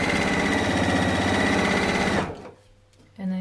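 A sewing machine runs steadily and loudly while stitching fabric for a dress, then stops abruptly, leaving near silence before a brief low hum returns.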